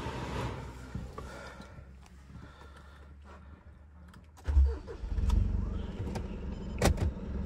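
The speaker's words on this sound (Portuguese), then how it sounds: "O barulho dessa caminhonete, quando liga, ele é bonito demais" A Mitsubishi L200 pickup truck engine cranks and catches about midway, swelling into a close, deep idle rumble inside the cabin after a quieter stretch of interior noise.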